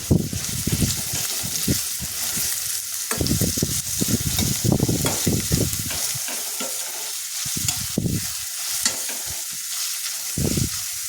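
Chicken gravy frying in a pan while being stirred, with irregular bursts of scraping and clattering over a steady sizzle, close and fairly loud, without talking.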